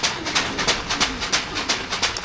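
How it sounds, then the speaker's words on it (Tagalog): Pigeons or doves coo in a regular pulsing rhythm, soft repeated calls close by and overlapping, with faint background noise. "Nakahuli na naman ako ng ibon din na inakay."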